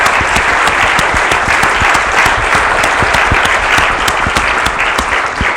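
A large conference audience breaks into loud, sustained applause, dense claps filling the room without pause from start to finish.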